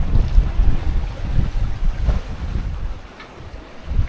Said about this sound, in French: Les vagues se sont un peu calmées.